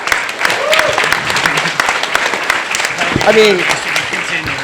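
A convention panel audience at BronyCon 2013 breaks into applause, a dense steady wash of clapping heard under and alongside speaking voices.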